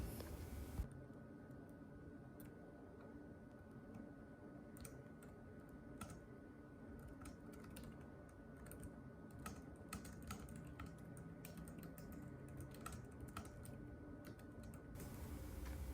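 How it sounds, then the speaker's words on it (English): Steady, continuous typing on a Logitech K380 keyboard with low key travel, quiet soft clicks in a dense rhythm, close and fairly faint, with no talk. "So here's some typing sounds on the K380."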